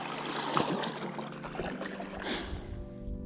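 A river current on the Solokiya, running fairly fast with the water level slightly high, heard as a steady broadband rush and trickle that continues without a break, with a brief louder surge of splashing partway through.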